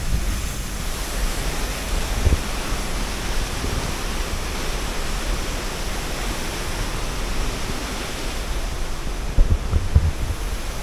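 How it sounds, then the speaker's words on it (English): Muddy waterfall in Oregon with heavy spray, a constant loud broadband roar of falling water heard up close, with a couple of faint bumps near the end and no talk. "There you have it. The waterfall."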